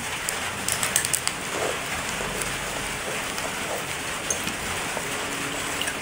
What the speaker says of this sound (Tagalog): Biglang ulan.